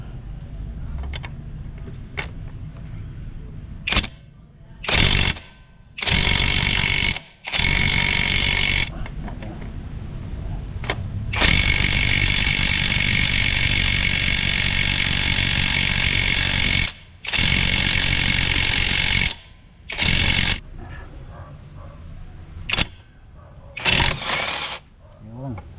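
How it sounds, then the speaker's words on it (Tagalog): A cheap impact wrench working a large 24mm bolt loose, its motor firing in repeated loud bursts of hammering rattle separated by brief pauses, close and harsh. "ito ang talagang pinakalas kong gustong tanggalin, itong malaking bolt na to, size 24mm"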